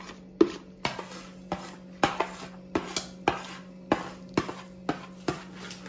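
A spoon stirs kootu curry with roasted coconut in a pot, knocking against the metal in steady clinks about every half second, fairly close and alone.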